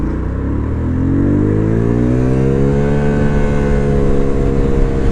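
A Vespa GTS 125 scooter pulls away on a cold day and accelerates up to normal road speed, its engine note rising steadily through the gears, close and loud with no talk.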